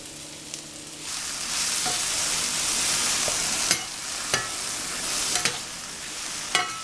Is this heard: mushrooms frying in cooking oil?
yes